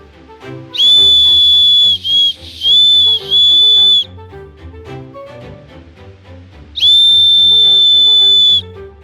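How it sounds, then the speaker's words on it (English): An emergency whistle built into a survival knife is blown hard three times outdoors: two long shrill blasts with a brief gap, then a third long blast after a pause, loud and close over quiet background. "That's definitely a whistle blown by a human."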